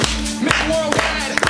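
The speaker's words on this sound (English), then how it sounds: "Clap." People clapping at an outdoor Zumba event, with a few loud, sharp claps spaced apart over music and voices.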